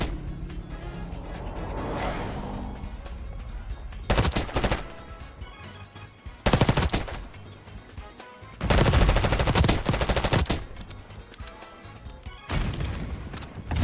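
Several bursts of automatic gunfire in Black Ops 6: loud rapid-fire strings of shots separated by short pauses, with quieter game ambience between bursts.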